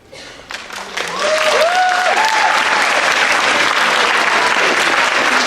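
Applause from the audience at an eighth grade step up day, for the winter color guard, swells quickly after a brief voice and holds as a loud, dense, sustained roar of many hands clapping, with a few cheers.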